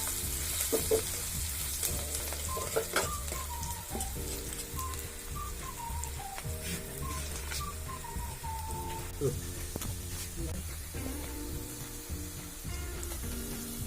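Mutton curry base with turmeric frying in a pan, a steady sizzle with occasional stirring knocks under a voice and background music.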